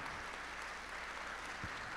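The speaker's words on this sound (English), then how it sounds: "let's give a round of applause saying thank you" A church congregation gives a round of applause after a chaplain's sermon, a steady, even wash of many hands clapping throughout, moderately distant and fairly soft, with no voices over it.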